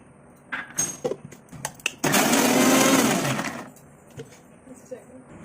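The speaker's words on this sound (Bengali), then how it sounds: "প্রথমে আমি এগুলো সব একসাথে মিক্সিতে গ্রাইন্ড করে নেব।" A mixer grinder blending banana, dry fruits and oats, a loud close whirring roar running about a second and a half before winding down, preceded and followed by light clatter of handling the jar.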